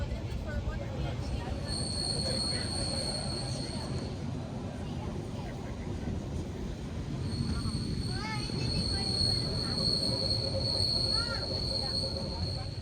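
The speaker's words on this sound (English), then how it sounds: "This narrow gauge railway took us on the last hour of our journey" A narrow gauge mountain train to Zermatt, Switzerland, rumbles steadily along the rails with a continuous low roar, punctuated by high, sustained wheel squeals and faint voices in the background.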